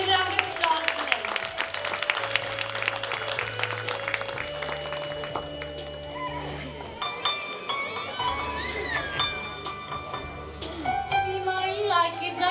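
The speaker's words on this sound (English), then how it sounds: "A huge round of applause for them." An audience at a school annual function claps in applause, a steady patter of many hands mixed with music and some voices, held over several seconds.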